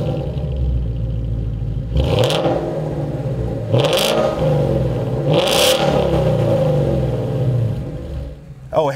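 A 2015-2017 Mustang GT V8 fitted with a Ford Performance Borla Touring cat-back exhaust, idling with a deep rumble and then revved three times in sharp, loud bursts that each fall back to idle, heard close.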